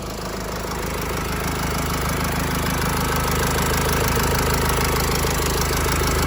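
The diesel engine of a Mercedes-Benz GLC 220d 4MATIC Coupe idles continuously at close range, a steady, droning, constant low rumble with no breaks and no voices.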